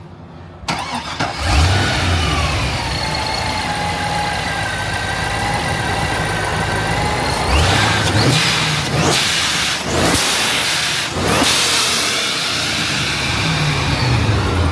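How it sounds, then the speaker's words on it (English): A supercharged Chevrolet Corvette C5 Z06 engine starts up and settles into a loud, close idle with supercharger whine, then revs sharply several times in quick blips before returning to idle. "So I'm revving for you guys so we can hear the supercharger"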